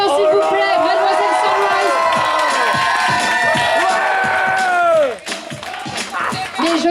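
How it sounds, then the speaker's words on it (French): Crowd at a pin-up contest cheering and clapping loudly for an entrant at Festi'Cadillac, steady dense noise with whoops and shouts throughout, dropping slightly near the end. "On peut l'applaudir bien fort s'il vous plaît"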